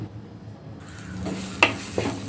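Coriander powder, chili powder and salt are sautéed in a pan for a crab curry: a soft sizzle with scraping stirs and a couple of sharp knocks of the utensil against the pan.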